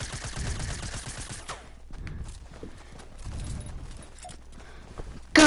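Gunfire in the game Fortnite comes as rapid bursts of sharp shots, a dense volley at the start, then scattered shots, with no talk over them.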